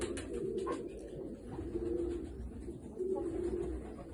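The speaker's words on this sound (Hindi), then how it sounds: "कबूतर नस्ल वाइज भी बहुत अच्छा है।" Pigeon cooing close by, low soft rolling coos repeated several times at a quiet level, with faint background noise and no talk.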